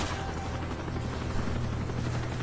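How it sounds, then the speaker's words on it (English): A helicopter passes in the video game Call of Duty: Modern Warfare 3, a steady low rotor rumble with dense broadband noise that holds at an even level for a few seconds, with no talk over it. "That helicopter passes."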